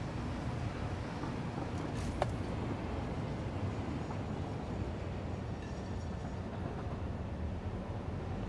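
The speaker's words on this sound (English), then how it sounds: "This other train is coming down this way." A train in the factory-building video game Satisfactory runs past with a steady, dense rumble and rolling wheel noise, plus a brief metallic ping partway through. The rumble is continuous and moderately loud, with no talk.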